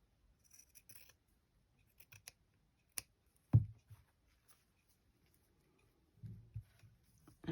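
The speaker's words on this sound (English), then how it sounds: "And then fray the ends again, because I've used the scissors." Scissors give a few quiet, sparse snips while cutting fabric trim in a slow hand-stitching session, with one sharper, louder cut midway and small clicks between near-silent gaps.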